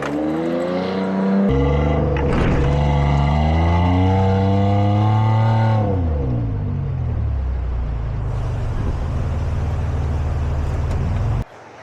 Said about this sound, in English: Give it some gas. Start going.